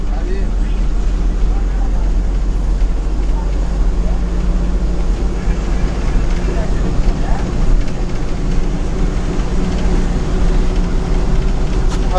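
Steady rumbling engine drone and road noise inside a bus travelling from Tenali to Kothurulanka, continuous and fairly loud throughout with faint voices mixed in.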